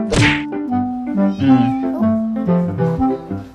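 A cat meows repeatedly in drawn-out, wavering cries, close and fairly loud, with a sharp thump near the start.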